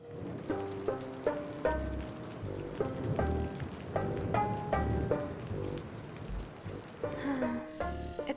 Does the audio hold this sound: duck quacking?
no